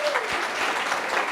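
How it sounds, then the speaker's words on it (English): Audience applause fills a small indoor venue at a local artists' event, steady dense clapping close by, loud and continuous for over a second with no talk over it. "let's give him another round of applause"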